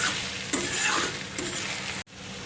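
Onions sizzle over a low gas flame as the base for a salted-peanut curry. A steady, close frying hiss carries a couple of stirring scrapes, then cuts off abruptly near the end.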